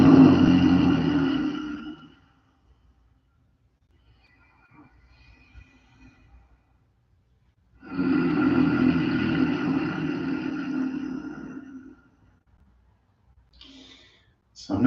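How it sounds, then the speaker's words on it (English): Ujjayi breathing in and out through the nose with the vocal cords rattled, two long rasping breaths of about four seconds each separated by quiet pauses, close and fairly loud. "the Hindu thing to do is called Ujjayi breathing, where you breathe in and out through the nose, but you rattle your vocal cords"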